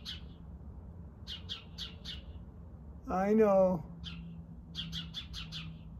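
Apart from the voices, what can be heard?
bird chirping nearby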